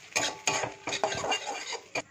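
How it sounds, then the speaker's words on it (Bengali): A spoon scrapes and clinks against a pan while Maggi noodle masala with onion and tomato ketchup is stirred, several short irregular metallic strokes, close and moderately quiet, with no talking. "তারপর ভালোভাবে নাড়িয়ে নেব।"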